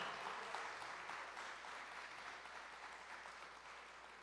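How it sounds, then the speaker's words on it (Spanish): Congregation applause during a church service, a dense, sustained wash of many hands clapping, even and somewhat distant, with a faint voice in the background. "Den un aplauso al Señor."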